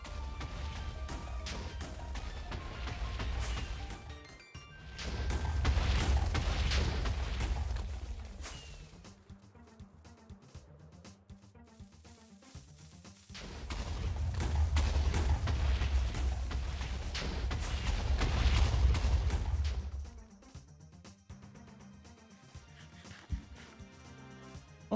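TNT in the Minecraft video game goes off in two long chains of overlapping booms, loud and rumbling for several seconds each, separated by a quieter stretch.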